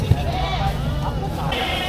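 Goats bleating at a busy livestock market, with one wavering call standing out among nearby animals and a steady crowd murmur, while people talk close by.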